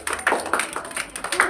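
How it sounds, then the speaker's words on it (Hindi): Children clap their hands loudly together in a short burst of repeated claps, with a bit of voice mixed in. "ताली बजाओ जोर से"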